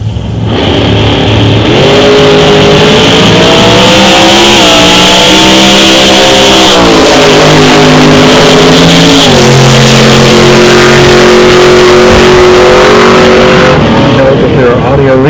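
A 1952 Henry J drag car, sold by Sears as an Allstate, revs and accelerates hard down a drag strip, its loud engine climbing in pitch through gear changes, with a crowd and an announcer's voice audible underneath.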